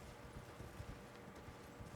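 Hooves of a mounted enemy's horse in Elden Ring Shadow of the Erdtree: a quiet, irregular clip-clop of footfalls over a low ambient background, with no speech.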